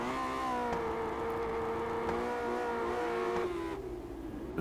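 A Lotus 79 race car in iRacing accelerates out of the pits, its engine note climbing steadily in pitch through the gears in a smooth whining rise, moderately loud and unbroken.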